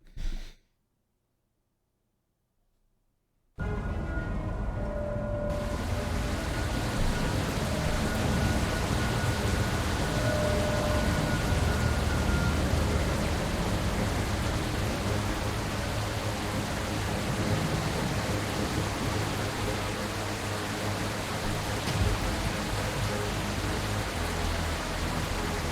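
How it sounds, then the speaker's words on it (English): Steady rain from an indie video game in development, a dense, even hiss that starts abruptly after a few seconds of silence and continues unbroken, loud and close, with no talking. "Ignore the rain at the moment. I'm working on the rain."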